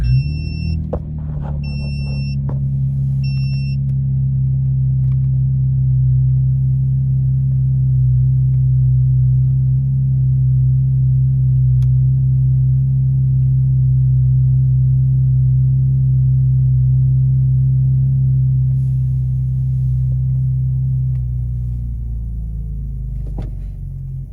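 A 2008-2014 Cadillac CTS engine starting up and settling into a loud, steady, deep idle rumble for over twenty seconds, with a few short electronic beeps at the start and no talking.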